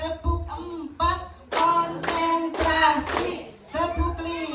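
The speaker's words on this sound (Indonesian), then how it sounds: "Oke, tepuk 3, semangat. Tepuk 4," Group of elderly learners clapping in rhythmic patterns during a classroom clapping chant, with bursts of claps separated by short pauses and a voice calling out between them.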